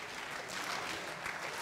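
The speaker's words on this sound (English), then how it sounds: "So can I hear a little clap?" An audience at the FOSDEM 2013 open-source conference claps steadily at a talk. The sound is dense and even, faint and distant, with no voices over it.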